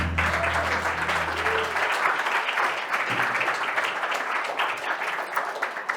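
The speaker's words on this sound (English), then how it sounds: "Let me give a round of applause for Mr. Brock Pierce, please." An audience gives Brock Pierce a round of applause, a full, steady burst of many hands clapping that carries on evenly from start to finish.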